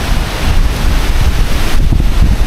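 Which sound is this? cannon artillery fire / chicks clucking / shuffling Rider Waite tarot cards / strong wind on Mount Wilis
strong wind on Mount Wilis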